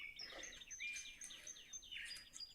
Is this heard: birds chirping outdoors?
yes